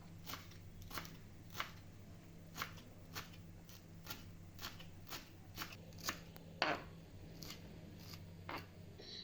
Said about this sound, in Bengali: ধনিয়া পাতাও কুচি কুচি করে নিচ্ছি।